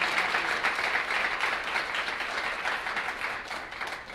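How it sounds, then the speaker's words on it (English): A roomful of people at a Teacher of the Year breakfast applauds steadily, a dense, even wash of clapping that holds for several seconds without any voices over it. "Let's please give her a big round of applause."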